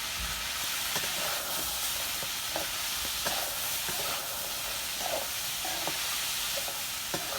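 Meat frying in a pan with potatoes, chickpeas and soybean chunks, a steady loud sizzle and hiss with occasional scraping taps of a stirring utensil, close up and continuous.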